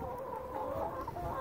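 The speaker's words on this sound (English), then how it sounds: "Kyra. And our black Australop Lort chickens" Black Australorp chickens cluck steadily at close range, a continuous murmur of hen calls with no talking over them.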